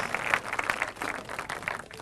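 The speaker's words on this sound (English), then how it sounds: "Let's round of applause, please, for all shooters and the scores" A crowd applauds steadily at a clay shooting competition, a dense patter of many hands clapping at moderate distance, fairly soft and continuous.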